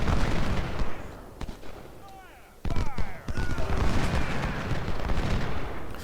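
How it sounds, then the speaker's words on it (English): Artillery cannons firing during the Battle of Shiloh in the Ultimate General: Civil War strategy game, sharp booming shots and cracks over a dense battle din, with a brief lull before the barrage resumes. "Over here our artillery is now opening up"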